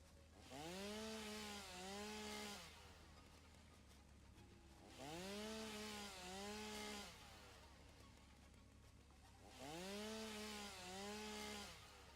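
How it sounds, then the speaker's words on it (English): Chainsaw cutting wood in the video game Satisfactory: three separate bursts of revving motor, each with a rising and falling engine whine, separated by a low steady hum. "I'm gonna chainsaw this stuff down."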